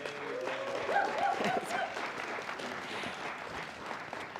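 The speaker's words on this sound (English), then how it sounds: "give one more time our, who will be alumni tomorrow, a rousing round of applause" A graduation audience gives a rousing round of applause, a steady wash of many hands clapping at moderate distance, lasting throughout with a slightly louder swell near the start.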